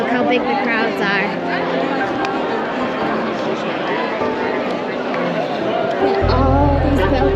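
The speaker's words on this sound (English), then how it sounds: "Guys, look how big the crowds are." A large crowd of pilgrims in Rome during the Jubilee year, with a dense, steady hubbub of many voices all around and a close voice talking over it.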